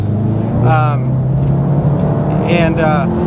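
A car on the Nürburgring overtakes with a droning engine and rising whoosh, close and loud, with a voice talking over it.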